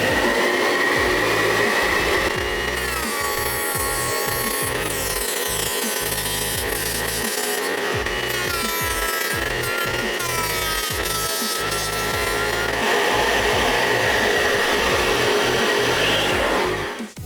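A trim router fitted with a 6mm bit routing through a 4mm-thick board, a loud, steady high-pitched motor whine with cutting noise running continuously and alone, fading only at the very end.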